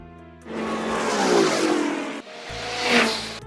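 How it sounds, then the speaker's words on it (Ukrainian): Cars rush past nearby, a loud whooshing engine roar swelling and fading twice in quick succession. "шум транспорту"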